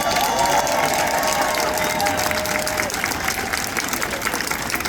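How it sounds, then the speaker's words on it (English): A crowd at an LGBTQIA+ rally in West Hartford, Connecticut claps steadily and densely for several seconds, with scattered cheers and a long whistle near the start. "Let's give a round of applause to our organizers today"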